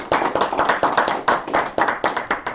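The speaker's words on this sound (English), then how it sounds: "a final round of applause for your panel" An audience at a Seattle AI forum applauds a panel. Close, crisp hand claps form a loud, choppy, uneven pattern throughout the short burst.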